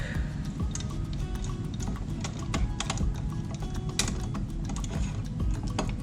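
A DeWalt 24-inch clamp is unlocked and pulled apart, a run of quick, close plastic clicks and ratcheting snaps, fairly quiet and irregular.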